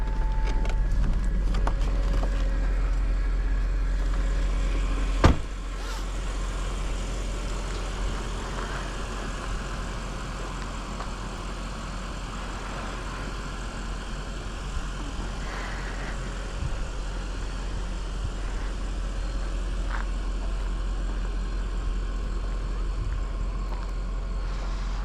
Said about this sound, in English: let's fire up this A8